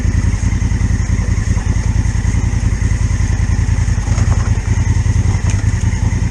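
A dual-clutch Honda Africa Twin adventure motorcycle engine thrums loud and close with a steady, rapid pulsing rhythm, running continuously throughout while riding off-road.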